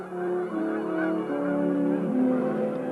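Canada geese honk loudly and close, several birds calling at once in a continuous overlapping stream of nasal honks over about three seconds.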